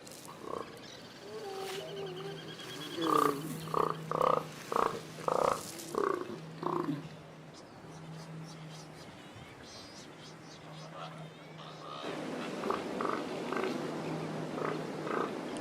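A breeding colony of elephant seals on the Atlantic coast gives deep, guttural, pulsing calls in rhythmic bursts, some nearer and louder, over a constant low background rumble.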